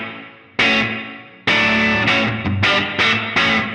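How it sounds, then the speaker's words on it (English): Electric guitar played through a 1965 Fender Deluxe amp with its spring reverb on, sounding a few loud strummed chords with distorted, effected tone, each ringing out and decaying with a short reverb tail before the next hit. "Let's turn on the reverb and hear that tenor reverb."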